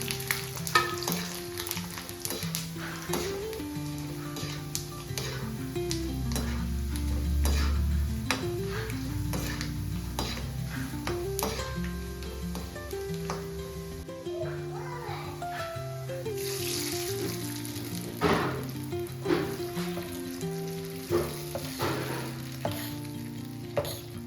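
Ingredients roast in a hot pan for unniyappam, with a steady sizzle, repeated stirring scrapes and clinks of a utensil against the pan, close and continuous throughout.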